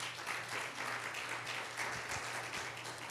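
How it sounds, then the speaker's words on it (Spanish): A church congregation claps steadily as an offering of applause to the Lord, a full, even wash of hands close by and lasting throughout. "una ofrenda de palmas al Señor"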